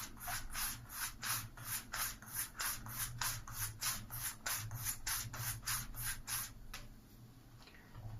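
A straight razor stroked back and forth along a leather strop, about sixteen quick, even rubbing passes close by at a steady rhythm, then a pause with a faint final stroke, no talking.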